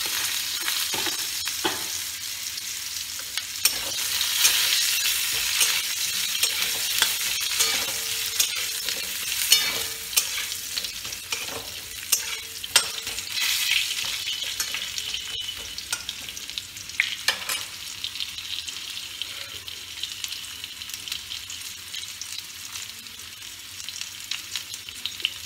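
Potatoes frying in hot oil in a pan just emptied of fried snakehead fish, with steady loud sizzling and repeated scraping stirs throughout, no voices.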